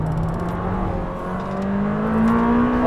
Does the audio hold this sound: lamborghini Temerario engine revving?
yes